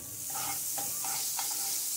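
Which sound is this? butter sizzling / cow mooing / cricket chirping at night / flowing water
butter sizzling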